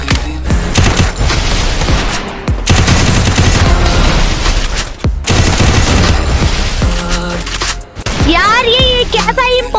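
Rapid automatic gunfire from the mobile shooter Free Fire rattles loudly in long sustained bursts, broken by brief pauses, with a voice talking over the shooting and chirpy game effects near the end.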